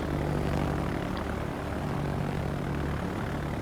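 Propeller aircraft engines drone steadily in a World of Warships match, a continuous mid-level hum of carrier planes flying overhead with no pauses.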